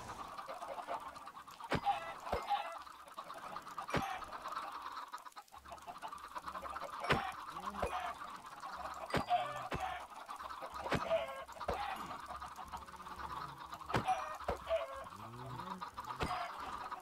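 Minecraft chickens clucking in short bursts at moderate loudness, with intermittent sharp clicks and knocks mixed in, no talk.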